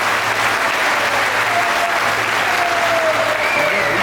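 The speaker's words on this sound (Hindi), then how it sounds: "एक बार जोरदार तालियों के साथ आदरणीय गुलाब जी भाई साहब का स्वागत करें" A crowd at a birthday felicitation on a theatre stage claps in steady, loud applause, continuous and dense throughout, with a faint tonal hum and whistle-like tones running underneath.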